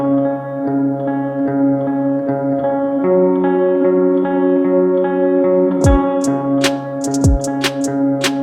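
Dark guitar track processed with a compressor and reverb, sustained smooth chords ringing steadily, with sharp percussive hits entering near the end.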